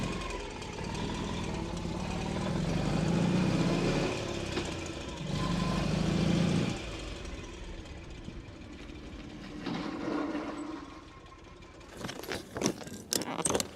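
A Ural sidecar motorcycle's engine rises and falls under acceleration, then eases off while braking, a continuous close engine drone that swells twice before fading into scattered knocks and rattles.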